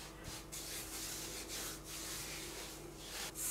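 Soft, close rubbing and scraping strokes, repeated in a loose rhythm, as a rye bread dough ball is dragged seam-side down across a floured surface.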